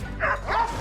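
Hunting dogs released in a forest to track wild boar give two quick barks in succession, carrying with a slight echo among the trees.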